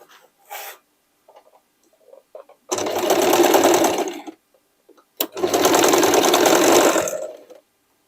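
A sewing machine runs a triple zigzag stitch on a denim jacket made from old jeans, in two loud sustained bursts of steady whirring separated by a brief pause, with small handling taps before the first run.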